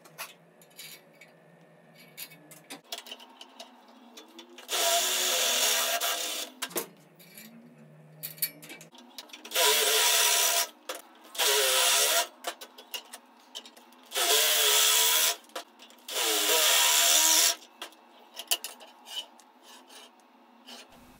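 A 3/16 inch drill bit bores holes into a shelf support, heard as several sustained whirring bursts of a few seconds each, separated by quiet pauses and small handling clicks, close up.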